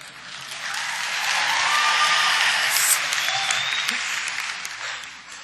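A commencement crowd breaks into loud, sustained applause with a few cheers, building to a peak midway and then slowly tapering off.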